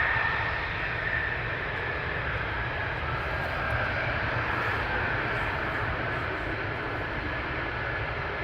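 F-15 fighter jets taxi at RAF Lakenheath, a loud continuous jet-engine roar and whine that holds steady throughout at fairly close range.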